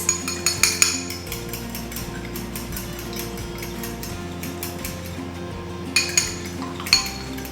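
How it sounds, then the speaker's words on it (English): A whisk or fork clinks quickly against a bowl while eggs are beaten, with a burst of sharp metallic taps at the start and again near the end, and quieter steady mixing in between. "we're just gonna give this a quick whisk with a whisk or a fork"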